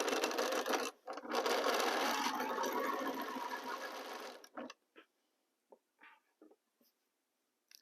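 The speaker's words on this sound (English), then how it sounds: "I am going to start sewing row number 1." A sewing machine joins quilt fabric pieces with a quarter-inch seam in bursts of rapid, close stitching that break off briefly, followed by a run of soft scattered clicks and fabric handling.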